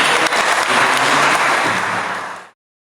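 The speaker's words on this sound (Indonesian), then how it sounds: "berikan tepuk tangan dulu buat pembicara kita." A seminar audience applauds a speaker in a loud, dense burst of clapping that fills the space, then stops abruptly after about two and a half seconds.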